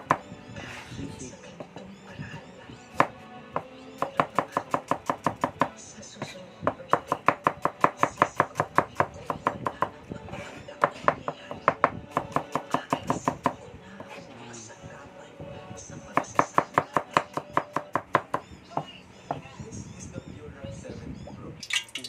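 A knife chops chili on a board while pork sisig is prepared, giving bursts of quick, sharp, evenly spaced taps close by, pausing between runs, with faint kitchen noise underneath.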